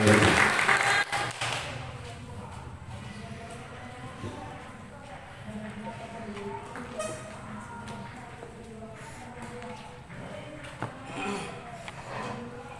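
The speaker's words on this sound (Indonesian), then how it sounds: "Berikan aplaus untuk peserta ini" Audience applause for a contestant at a university student speech contest final in Kupang, a loud burst of clapping at the start that quickly fades into a lower, steady crowd murmur with scattered noises.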